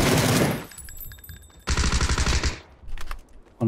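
Automatic gunfire in PUBG: a loud rapid burst, a pause, then another sustained rattling burst, followed by scattered softer shots and a final loud crack at the end.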